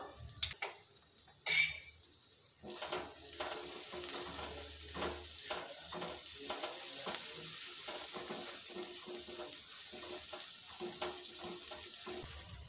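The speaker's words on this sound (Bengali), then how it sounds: "যতক্ষণ মশলা থেকে তেল ছেড়ে না দিচ্ছে ততক্ষণ আমি মশলাটা কষাতে থাকবো" Masala spice paste frying in oil for an egg curry while a spatula stirs and scrapes the pan, with a steady sizzle, a sharp clatter early on, and repeated stirring knocks throughout, close and moderately loud.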